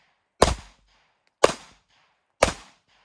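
Three sharp gunshots fired at an even pace about one second apart during beginner shooting-on-the-move drills, each a loud crack with a brief decaying tail, with no talking in between.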